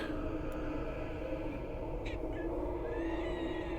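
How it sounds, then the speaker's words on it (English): A few faint cat meows rise over a steady, droning background during a spooky Halloween tabletop role-play session, heard off-microphone and distant. "We even have some spooky cat sounds from off the microphone."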